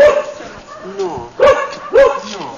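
A white Samoyed dog gives short yipping barks and whimpers outdoors, close by, in a few sharp bursts. People talk over and between the calls.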